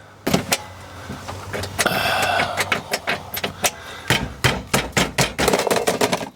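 Loud mechanical banging and rattling of metal and plastic as a 1978 Chevy K-20 truck glove box is forced open, a rapid series of sharp knocks and clanks with a brief scraping grind in between, close up.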